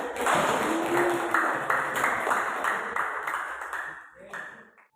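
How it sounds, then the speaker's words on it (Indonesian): Classroom audience clapping for a student group during a teaching-practice lesson, steady rhythmic claps close by, fading near the end. "Silakan tepuk tangan buat kelompok 2"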